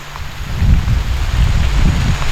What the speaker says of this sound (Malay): Hujan petang.